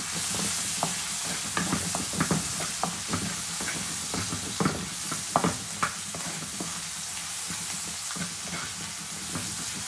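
Spice paste for stir-fried water spinach fries in hot oil, a constant close hiss broken by frequent spatula scrapes and taps against the pan, no talking.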